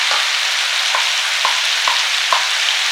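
Ginger garlic paste fries in a pan of oil for a nati-style black pepper chicken, with a loud, steady sizzle broken by a few soft, regular stirring scrapes.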